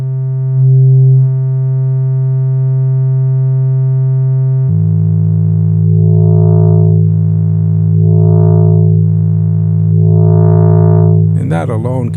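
Moog Matriarch synthesizer with drive distortion on the dry signal, a loud sustained buzzy drone that shifts to a thicker tone midway, then swells in repeated slow filter sweeps, ending in a brief harsh burst, with no talk.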